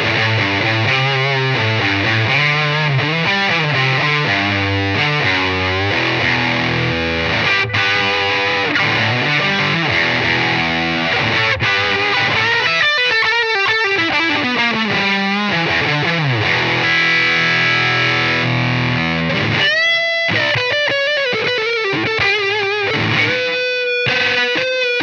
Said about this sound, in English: Now let's have a look at the distortion pedal.